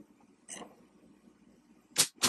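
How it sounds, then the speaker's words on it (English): Plastic loom hook drops and clatters on the floor: two sharp, close clicks near the end of a quiet room, with a fainter knock earlier, no talking. "That was my other loom hook just hitting the floor."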